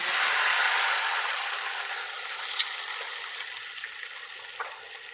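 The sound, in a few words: garlic, ginger, green chillies and onion frying in oil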